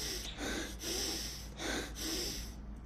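Heavy, deep diaphragmatic breathing repeats in a steady rhythm, each forceful inhale and exhale rushing loudly and close over a low constant hum.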